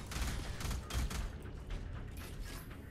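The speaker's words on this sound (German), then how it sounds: "Da unten ist ein Geschütz." Turret fire in the shooter game Alien Rage, a dense, sustained burst of rapid shots with heavy low-end thumps that eases into a steadier, quieter rattle.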